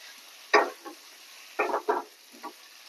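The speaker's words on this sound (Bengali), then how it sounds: "ডিমগুলো দিয়ে দেব, দিয়ে ভালো করে কষিয়ে নেব" Eggs are stirred into fried spice masala in oil with a few short, separate scraping strokes and a faint sizzle underneath. The sound is quiet and close, with no voices.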